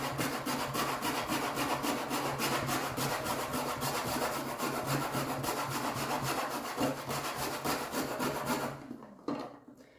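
Food is grated steadily into a bowl, likely pumpkin or spice for vegan scones, making a continuous rhythmic rasping scrape that runs close and loud for several seconds before stopping abruptly near the end.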